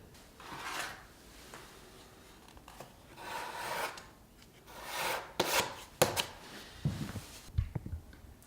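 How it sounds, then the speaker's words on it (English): A scoop scrapes drywall joint compound out of a bucket and drops it into the reservoir of a TapeBuddy taping tool, heard as a series of close, irregular wet scrapes and soft thuds with brief pauses between them. "take the scoop and scrape, take compound out of the bucket and place it in the reservoir on the TapeBuddy"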